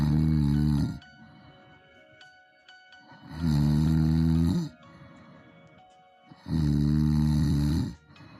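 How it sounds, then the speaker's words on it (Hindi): A lion snores loudly in a forest tale, three long, deep, rasping snores spaced a few seconds apart with quiet breathing between them, alone and close. "शेर सो रहा है और खूब खर्राटे ले रहा है।"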